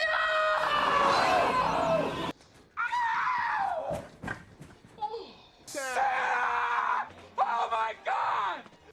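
An actor as Buddy in the Christmas film Elf lets out loud, sustained screams and wails in several bursts, broken by brief pauses and shifting pitch.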